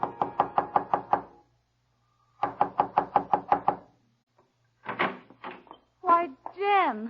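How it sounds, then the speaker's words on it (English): Two rapid bursts of about seven crisp knocks on a door, close and loud in a radio drama, separated by silence, followed by voices speaking. "before he knocks at the door"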